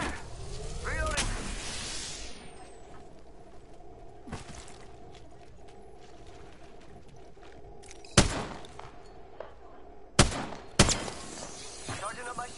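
Gunfire in the Apex Legends video game: sharp, loud shots crack out around 8, 10 and 11 seconds over a steady low game ambience, with a burst of noisy activity at the start.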